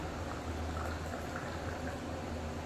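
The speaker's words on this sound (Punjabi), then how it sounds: "ਹੁਣ ਅਸੀਂ ਪਾਣੀ ਆਹ ਕੱਪ ਵਿੱਚ ਪਾ ਦਿੰਨੇ ਆ" Water is poured into a cup with a soft, continuous hiss that stays faint and even throughout, with no one speaking.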